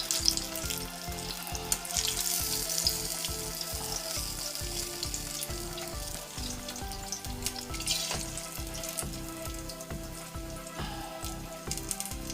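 Apple fritters frying in canola oil, a bright continuous hiss and sizzle with crackling pops and occasional bubbling bursts, close and moderately quiet, with faint background hum.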